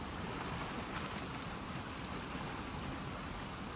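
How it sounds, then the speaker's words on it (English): Steady, heavy rain pours in The Last of Us Part II, a dense, even hiss of water with no breaks, close and loud on its own. "Let's get out of the rain."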